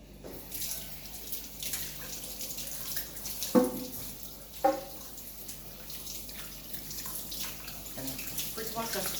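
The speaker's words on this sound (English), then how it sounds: "I'm going to wash that off." A whole chicken being prepared for oven barbecue is rinsed under a running tap, with a steady faint water stream, a couple of sharper splashes and a voice talking in the background.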